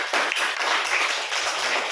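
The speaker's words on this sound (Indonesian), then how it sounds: "Oke, tepuk tangan dong." Classroom of students clapping hands together, a dense brisk burst of applause filling the whole moment, close and lively.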